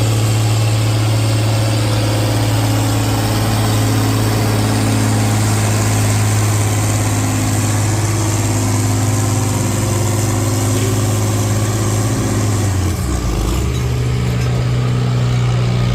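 A John Deere 4320 tractor in the 11,000-pound turbo class at an antique tractor pull in Milledgeville, Illinois roars loud and close with a steady, heavy drone that drops sharply in pitch near the end, with no voices over it.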